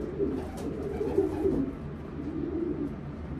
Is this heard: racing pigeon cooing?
yes